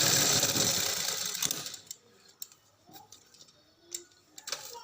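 A sewing machine stitches lace onto a sleeve with a loud, close mechanical whir for about two seconds, then falls to quiet ticks and light handling sounds.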